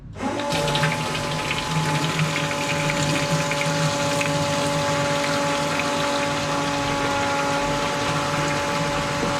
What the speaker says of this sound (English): Magna Fuel Pro Star 500 flows fuel pretty quick.